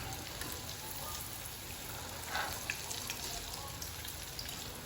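Cassava fritters (bolinho de mandioca) fry in hot oil with a continuous crackling sizzle, fairly even and close, with a faint voice at moments.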